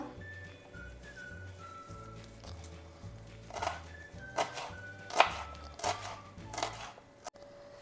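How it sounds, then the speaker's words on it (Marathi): A medium-size onion is finely chopped with a knife, giving a series of crisp cuts that start sparse and grow denser, close and moderately loud over a steady background tone. "इथे ना मीडियम साईजचा कांदा एकदम बारीक कट करून घ्यायचा आहे"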